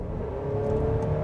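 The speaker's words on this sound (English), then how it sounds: "The engine, while it is relatively smooth, it makes these rather coarse and strained sounds." Engine of a 2024 GMC Acadia Denali droning coarse and strained under acceleration, a steady close revving hum with no talk over it.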